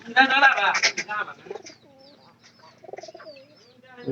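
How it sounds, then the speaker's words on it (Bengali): A domestic pigeon coos in soft repeated low calls, close and clear between spells of nearby human voices. "কবুতরটা আল্লাহর রহমতে খাইতেছে"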